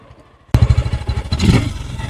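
A Suzuki Gixxer Fi ABS v4 motorcycle, ridden about 2000 km, fires up abruptly from quiet and idles with a loud, even, throbbing engine note close by, a slight swell partway through.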